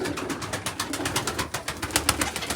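Pigeons coo close by in a breeder's coop, soft repeated throaty calls blending with faint fluttering and background rustle, with no voices.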